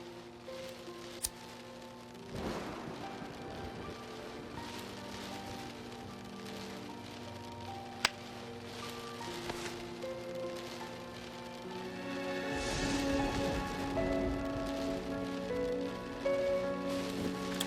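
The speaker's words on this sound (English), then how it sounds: "it's finally raining and mandatory in the story" Rain falls steadily in the video game Deadly Premonition, a soft continuous patter with scattered sharper drips, growing noticeably heavier and louder toward the end.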